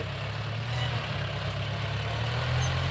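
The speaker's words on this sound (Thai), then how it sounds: "เสียงรถไถกระด้างดังจ้า" A heavy tractor engine rumbles steadily at idle in a rice field, a constant low drone with no changes in pace, fairly close.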